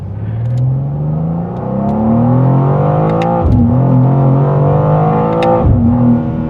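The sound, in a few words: 2025 BMW M2 LCI car pulling away, accelerating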